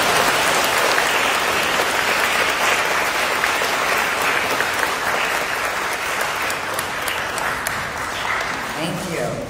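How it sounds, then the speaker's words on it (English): Sustained applause fills a church after a children's group is thanked at a Thursday weekday Mass, loud and steady throughout with dense hand claps from the gathered parishioners, tapering slightly near the end. "So can we please give them a big round of applause?"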